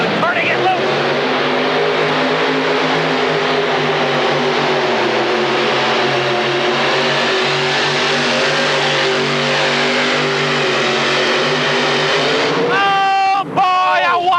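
Modified tractor at the 1986 Indy Super Pull roars at full power through a pull, a loud sustained engine drone lasting over twelve seconds before cutting off abruptly, with brief bursts of noise at the end.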